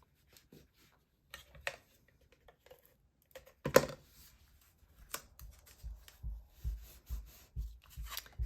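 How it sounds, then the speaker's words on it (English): A bone folder scores and creases vellum paper, giving soft scraping strokes and light papery rubs, faint and close, with a few louder rustles as the sheet is folded over. "I'm going to take my bone folder and just lightly score it."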